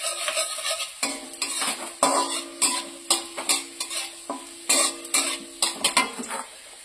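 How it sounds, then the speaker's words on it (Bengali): Ginger and black cumin seeds frying in a pan, stirred with a rapid series of sharp scrapes and clinks against the metal over a continuous sizzle, close and loud. "এবার একটু আমি নাড়াচাড়া করে নিচ্ছি। একটু কালো জিরেও দিয়ে দিচ্ছি। সব একসাথে ভেজে নিচ্ছি।"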